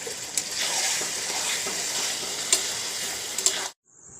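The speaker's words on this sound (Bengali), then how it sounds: "মশলা যাতে না ধরে দেয় ওই জন্য কিছুটা জল আমি দেবো এর মধ্যে দিয়ে কষতে থাকবো" Meat and chana dal are stir-fried with spices in a pan, making a loud, steady sizzle with scraping of the spoon and a few sharp clinks, cutting off abruptly near the end.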